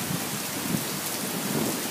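A nighttime thunderstorm with steady heavy rain and low rumbling thunder rolling underneath, a dense continuous wash of sound with no voices.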